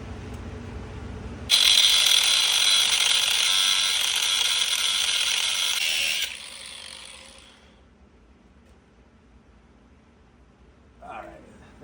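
An angle grinder cuts off a wrench stuck on a damaged oil pan drain plug, a loud steady high whine running for about five seconds before cutting out, followed by quiet and a brief faint clank.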